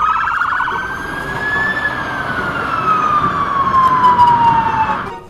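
A toy fire truck's wailing siren sweeps slowly up and down, loud and steady, with a rumbling engine underneath.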